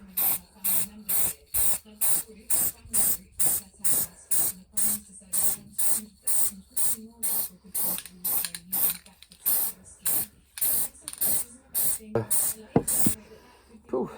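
Direct-to-metal spray paint goes on in light coats during a narrowboat fit-out, as a rapid series of about two dozen short, even hissing bursts from a nearby aerosol can, with brief pauses and faint knocks near the end.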